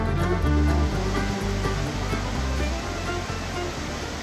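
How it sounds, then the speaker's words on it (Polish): A waterfall and stream rush loudly and continuously nearby, a dense roar of falling water with faint low thumps, no voices. "gdzie słychać tylko szum strumienia i huk spadającej wody"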